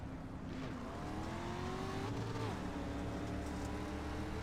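Race car engine from the iRacing video game during a dirt street stock heat race at the Dirt Track of Charlotte, a steady droning roar with rising pitch sweeps as it shifts gears, continuous and loud throughout.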